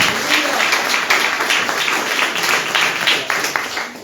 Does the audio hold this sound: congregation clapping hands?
yes